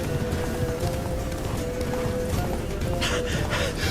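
Roach the horse gallops in The Witcher 3: Blood and Wine, hooves clip-clopping in a steady close run under a constant wash of game ambience and music.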